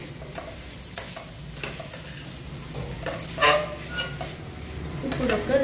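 Ground cumin sizzling in oil in a pan while a spoon stirs it, with soft scraping strokes and a few clinks against the pan, steady and close.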